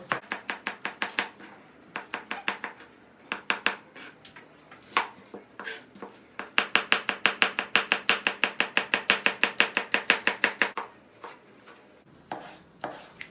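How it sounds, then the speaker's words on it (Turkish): Rapid knife chopping of parsley on a cutting board, bursts of quick even taps with short pauses, close and crisp. "Hemen bir maydanozunu doğrayalım."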